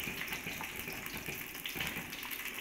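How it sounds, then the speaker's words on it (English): Hot water pours steadily into a karai of cashew gravy, a continuous splashing gush at moderate volume with no voices. "So we'll put some water here just to make the gravy"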